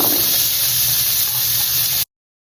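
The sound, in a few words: onions sizzling in butter in a pan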